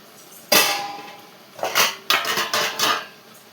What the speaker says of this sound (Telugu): ఓకే ఫ్రెండ్స్, చూసారా కర్రీ వండుతున్నాను